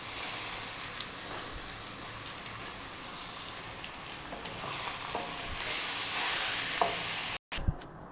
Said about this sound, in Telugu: కొంచెం పచ్చివాసన పోయినాక చికెన్ వేసుకోవాలండి. చికెన్ వేసుకోవాలి.